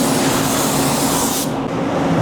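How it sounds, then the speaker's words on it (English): An NH547 spray gun lays sealer onto a car primed in black urethane, a loud steady broadband hiss that holds continuously, then its bright upper edge cuts out near the end while a lower rushing noise carries on. "I'm using the same exact spray gun, NH547."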